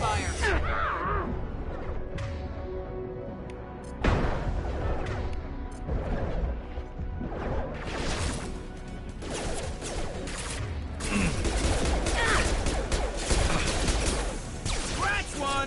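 Gunfire in the Mass Effect 2 video game rattles in sharp, dense bursts and scattered impacts, with a heavy crash near the start and a sustained volley later, over a rumbling combat background.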